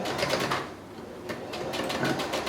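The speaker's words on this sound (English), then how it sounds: "the sewing machine's like not super happy" A sewing machine stitching through layered fabric seams of a cloth face mask, a close, steady rapid mechanical chatter with slight surges as it works through the thick material.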